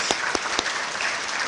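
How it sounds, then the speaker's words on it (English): Brief burst of audience applause at a formal gathering, dense steady clapping from a crowd with a few sharper claps standing out. "Let's welcome with an applause."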